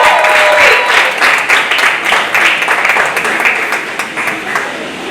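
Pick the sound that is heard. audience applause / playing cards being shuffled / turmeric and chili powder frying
audience applause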